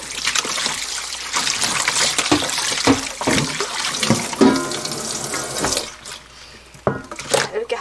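A whole stone octopus is rinsed under a running kitchen tap, with loud, steady splashing and trickling water and shifting gurgles as it is handled in the sink, breaking off briefly near the end.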